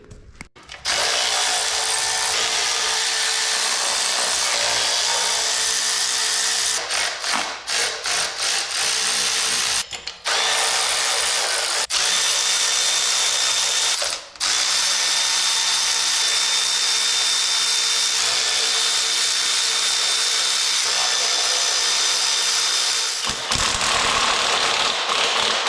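Power tool spinning off the cylinder head nuts on a flooded Corvair engine, a loud, steady, close whir running almost the whole time, broken by a few brief stops and restarts, with no talking.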